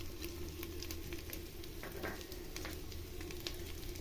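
Slit green chillies hitting a hot pan for a vegetarian khichuri, a dense, steady sizzle and crackle, close up and continuous, with light spatters throughout and no talking.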